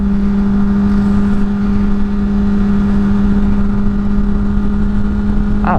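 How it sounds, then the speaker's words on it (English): A motorcycle engine hums steadily while riding along a road in the rain, a loud, constant drone with a low, unchanging pitch and no talk over it. "I was just trying to cool down the engine of my bike."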